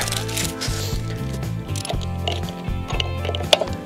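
Socket wrench ratcheting on a 1969 Kawasaki H1 500 Mach III motorcycle after 41 years of sitting, close, repeated clicking strokes in a steady rhythm with short pauses between them.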